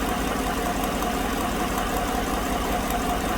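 A 2016 GM truck's 5.3 V8 idles with a defective stuck lifter, giving a steady close-up engine rumble with a faint repetitive ticking knock throughout, no talk.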